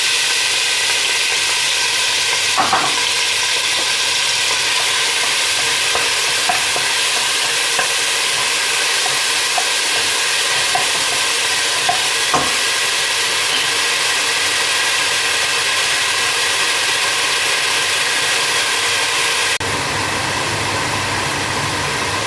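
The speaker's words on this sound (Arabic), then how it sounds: "أول شيء بنحط البصل على الدهن" Onions frying in fat for Kuwaiti prawn stew give a steady broadband sizzle with a few scrapes of stirring, close and fairly loud, with no voices.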